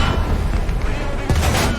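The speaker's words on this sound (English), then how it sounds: "I take my first shot, just kind of a guess through that wooden" A tank main gun fires a single shot at an enemy T-14 through a wooden barricade in a Berlin tank battle video game, a broad low boom over dense continuous battle rumble, with talk nearby.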